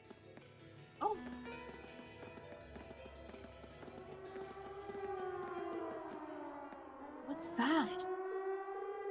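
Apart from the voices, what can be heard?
siren from a video game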